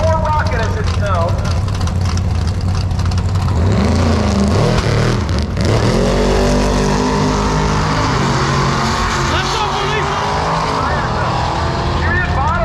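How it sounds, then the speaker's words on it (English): A nitrous-equipped 1978 Dodge pickup truck at a drag racing event rumbles loudly and continuously, its engine dominating throughout while an announcer talks over it. "So we get a little nitrous purge. Out of Clan Evans, 1978 Dodge pickup truck."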